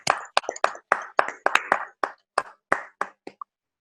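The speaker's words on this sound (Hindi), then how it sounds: "मैं चाहूंगी कि हम सभी तालियां बजाकर" Audience clapping to welcome a newly installed club president at a women's club installation ceremony: a dozen or so sparse, distinct claps in a loose rhythm, close and fairly clear, thinning out toward the end.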